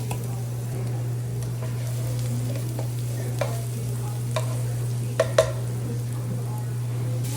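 Onion and garlic fry gently in olive oil with a soft sizzle over a constant low electrical hum. A few sharp utensil clicks land near the end.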